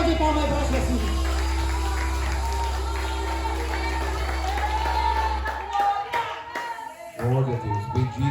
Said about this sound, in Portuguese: É uma salva de palmas para Jesus.